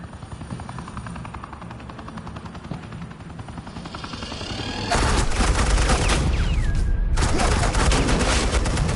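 Heavy suppressing gunfire in the Batman The Enemy Within video game erupts midway as a dense, continuous roar of rapid shots, loud and close, following a steady mechanical hum like a hovering helicopter.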